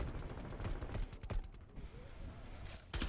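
Rapid gunfire from the video game Black Ops Cold War in a 6v6 Face Off match, with dense bursts of shots fired in quick succession, loud and close, with a final burst at the end.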